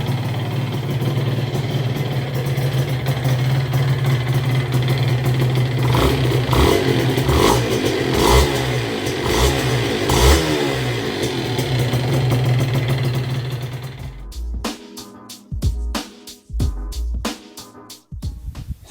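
A Honda NSR 125 R motorcycle engine runs at a close, steady, buzzing idle, then blips through several sharp revs. Toward the end the note breaks into a series of short, uneven bursts with gaps between them.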